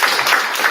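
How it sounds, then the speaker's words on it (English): Audience applause for a conference panel at a legislative agenda day, a brief dense burst of many hands clapping, loud and steady with no talk over it. "Let's give a round of applause to our panelists"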